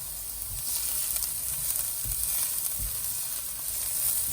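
Onions fry with a pinch of salt in a very hot pan, giving a steady, close hiss of sizzling with faint soft bumps from stirring and no voices.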